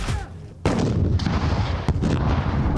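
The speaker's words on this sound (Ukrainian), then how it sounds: "Гранатометник відпрацьовує РПГ по імітованих ворожих позиціях." An RPG grenade launcher fires at a training range: a loud, sharp blast kicks in abruptly, followed by a sustained rumbling roar, then a second sharp report near the end.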